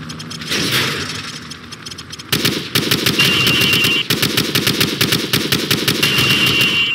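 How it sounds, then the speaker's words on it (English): Rapid automatic gunfire from the hip in Call of Duty 4: Modern Warfare, loud sustained bursts of shots that start after a brief quieter lead-in and continue nearly nonstop to the end. "shoot at the targets while firing from the hip"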